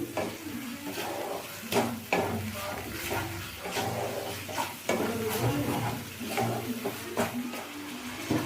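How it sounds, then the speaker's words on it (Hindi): Potato gravy with salt being mixed in a pan for dum aloo, a spoon scraping and knocking against the metal in an uneven rhythm, with someone talking over it. "अब हम इसको सारे को मिक्स कर लेंगे"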